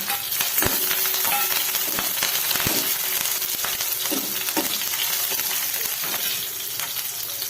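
Spices, chillies, curry leaves and garlic sizzle and crackle steadily in hot oil in a pan, with sharp pops and spatters over a continuous close frying hiss.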